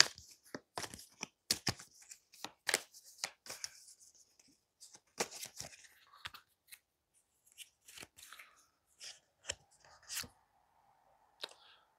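Tarot cards are shuffled by hand in quick, irregular bursts of crisp riffling and slapping, close and quiet, with short pauses between handfuls.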